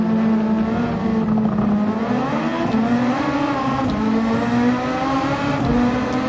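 Formula 1 car engine in a sim racing game, a loud sustained high-pitched whine that rises and falls steadily with gear changes, close and continuous with no talk.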